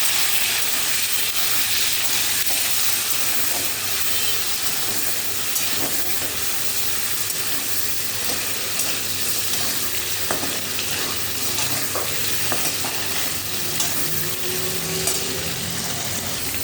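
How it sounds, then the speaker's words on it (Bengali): Cubed paneer frying in hot butter in a pan, a dense steady sizzle with faint crackles and occasional stirring scrapes, close and continuous, no talking. "বাটারটা গরম হয়েই গেছে, এবার এর মধ্যে কেটে রাখা পনিরটা দিয়ে দিলাম"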